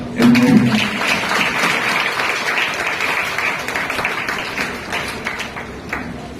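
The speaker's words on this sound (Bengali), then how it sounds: "আমি সবাইকে রিকোয়েস্ট করব তোমাদের সকলের জন্য হাততালি দেওয়ার" Students and teachers applaud at an awareness lecture and bin inauguration, a sustained burst of many hands clapping in a room that starts strong and keeps going steadily to the end.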